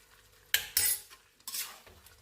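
Goat meat with tomato and garam masala being stirred in a pan, a few sharp scraping clinks of a spoon against the metal pan in quick bursts, close and otherwise quiet.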